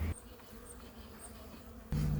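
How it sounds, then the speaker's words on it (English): Honeybees in an open beehive during a frame inspection, a soft continuous buzzing hum heard close, with a louder tonal drone breaking in at the start and end. "I see a few bees in there with some pollen right now."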